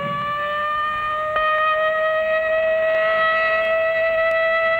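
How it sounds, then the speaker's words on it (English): A civil defense siren wails with a steady, sustained tone. It is loud and unbroken throughout, comes from a Cold War-era civil defense setting, and has no voices over it. "But tomorrow, this siren may mean the real thing."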